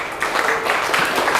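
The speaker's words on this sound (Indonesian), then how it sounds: "Tepuk tangan untuk kita semua." A short burst of audience clapping during a religious teaching session, dense and steady at close range for just over a second.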